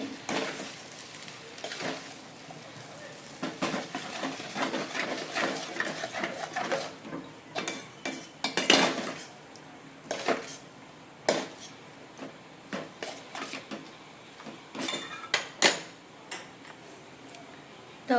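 Veg hakka noodles with tomato ketchup get tossed and stirred in a pan, a close, faint sizzle broken by irregular clinks and scrapes of a utensil against the metal.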